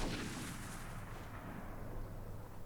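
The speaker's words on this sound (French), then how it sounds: "Le coup de feu vient de là-bas, ok." A single video game gunshot rings out at the start, followed by a decaying echo and low ambient rumble.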